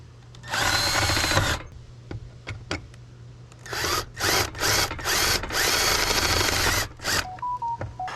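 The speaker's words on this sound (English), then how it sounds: "There we go, we got our pilot holes drilled. Now we can do our main holes." A power drill boring main holes through metal folding solar panel legs for an RV, several loud bursts of whining drilling separated by short pauses, close by with no talk.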